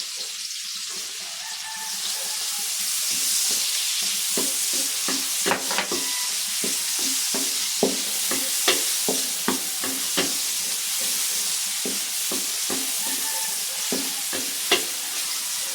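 Garlic and onion sauté in a pan with a loud, continuous sizzle, punctuated by repeated clicks and scrapes of a spatula stirring at an uneven rhythm, heard up close with no talking.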